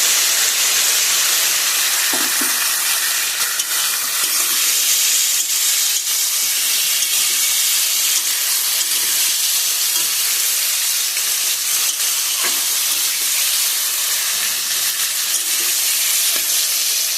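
Spice paste with ground cumin sizzling loudly and continuously in a pan while cooking for a hilsa fish curry, a dense close hiss with occasional soft clinks and scrapes of stirring.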